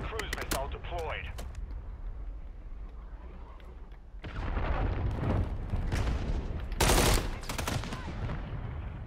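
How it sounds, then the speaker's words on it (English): Cruise missile strike in the Call of Duty MWIII team deathmatch map Crown Raceway, a rumbling blast building about halfway through with a sharp loud burst near the end, amid gunfire and game noise. "Friendly cruise missile deployed."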